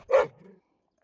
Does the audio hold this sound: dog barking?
yes